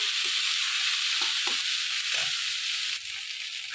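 Bottle gourd peel frying in a pan, a steady bright sizzle throughout with a few soft stirring scrapes, close and loud, with no talking.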